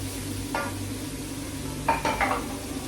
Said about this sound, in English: Now during this frying process we're going to add a knob of butter